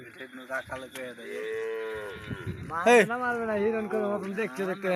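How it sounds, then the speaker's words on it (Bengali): Cattle moo repeatedly at a crowded cow market on a char of the Padma river near the India–Bangladesh border, with long, loud, close calls overlapping one another amid people talking. "পুরো চর জিরে হাজার হাজার গরু রয়েছে"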